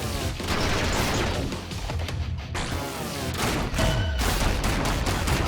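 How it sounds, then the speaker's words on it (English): A ScourgeBringer mini boss fires projectiles in a dense volley of sharp, rapid bursts that sound like gunfire, loud and continuous with brief dips, layered over a busy game soundtrack. "Let's just take out this mini boss. Avoid his projectiles."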